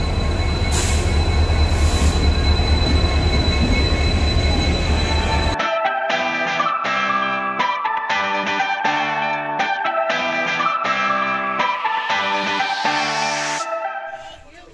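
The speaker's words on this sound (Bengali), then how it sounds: "আমাদের ট্রেন দিয়ে দিয়েছে" The Howrah–Mumbai Mail 12810 arrives at the Howrah Junction platform: loud, broad rumbling and wheel noise give way to repeated, tonal clanking and squealing bursts that fade at the end.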